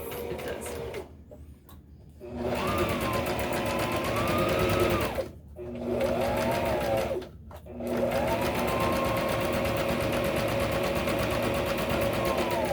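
A sewing machine stitches pink thread into backpack fabric in long, steady, whirring runs broken by two short pauses, loud and close, with faint voices in the gaps.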